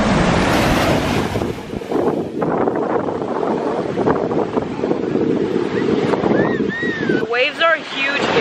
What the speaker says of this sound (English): Waves are huge here